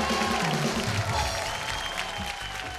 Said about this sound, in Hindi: जोरदार तालियों से स्वागत कीजिए हमारे शो की जजेस रश्मि देसाई जी और मधु शर्मा जी